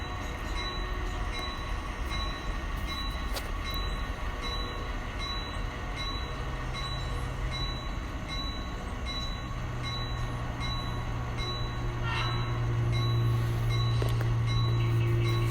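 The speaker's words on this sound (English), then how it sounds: "you could probably hear the Norfolk and Western blowing for the crossing at Eastern Avenue" A Norfolk and Western train blowing its horn for the Eastern Avenue crossing in Chillicothe: a steady, distant rail rumble runs throughout, with a sustained low horn tone swelling in the last few seconds over faint rhythmic ticking.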